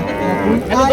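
A cow moos loudly and close at a busy cattle market in Chandina, Cumilla, where bony cattle meant for fattening are being sold. A single drawn-out call, rising in pitch toward the end.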